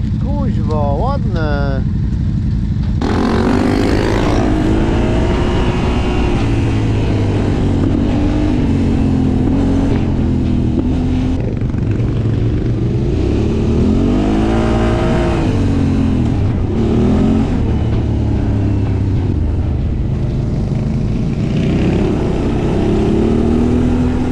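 A quad bike engine runs close by, a low steady rumble with rising and falling revs throughout, with a few voices briefly over it.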